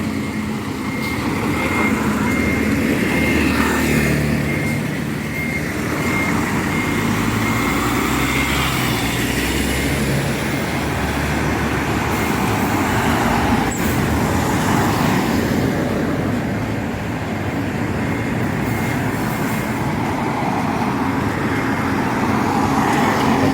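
Oncoming cars and trucks on a narrow road pass close by in a steady stream, with engine hum and tyre roar rising and falling as each vehicle goes past.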